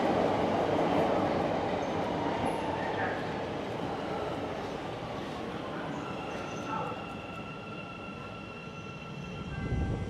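A train rumbles broadly through a station at night, a loud sustained roar that slowly eases with faint squeals and tonal whines on top, then swells again at the end.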